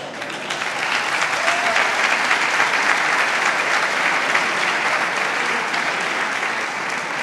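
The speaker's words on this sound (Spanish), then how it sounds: "Grabadme el aplauso que le vais a pegar" A large crowd in Almodóvar del Campo, Spain, at a bullfighting fair presentation claps steadily and loudly, a dense, even wash of applause that holds the whole time without fading.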